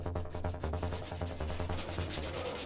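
Steady abrasive rubbing as the bodywork of a Vauxhall Tigra is sanded down, a continuous scratchy texture with a faint rhythmic back-and-forth stroke, moderately quiet and without voices.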